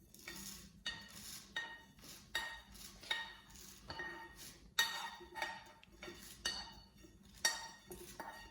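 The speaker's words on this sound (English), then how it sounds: "We'll put it in the mixie jar." Roasted fennel seeds tipped into a mixer jar produce a series of bright clinks and rattles against metal, roughly a dozen separate knocks at an uneven pace, close and fairly quiet with no talking.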